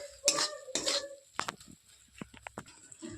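A utensil stirs and mixes ingredients in a pan for a mushroom masala: a few scraping strokes, then lighter taps and clinks of metal against the pan, close and fairly quiet.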